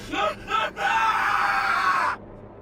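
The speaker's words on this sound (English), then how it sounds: "don't scream like that" A person screams loudly and nearby, with two short yells and then one long sustained scream that cuts off abruptly.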